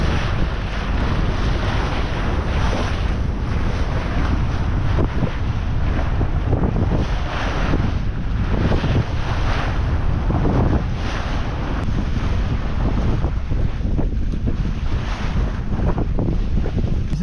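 A sailboat motors under its diesel engine through open-sea waves, a dense continuous roar of engine, rushing water and heavy wind buffeting the microphone, unbroken for the whole stretch with no talking.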